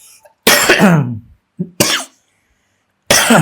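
A few loud, harsh coughs close to the mic: a long hacking cough, a short one, then another after a brief silence.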